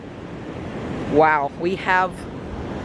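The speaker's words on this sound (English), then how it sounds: "waves are definitely stormier than normal" Stormy ocean surf rolls onto a windy beach as a steady broadband roar with wind buffeting the microphone, while a person exclaims over it.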